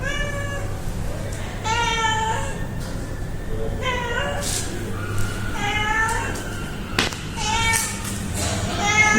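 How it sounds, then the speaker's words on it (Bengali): A cat meows close by in a series of loud, drawn-out, rising-and-falling calls, repeated every second or two over faint background noise. "একটা বিলাই, এই দেখেন,"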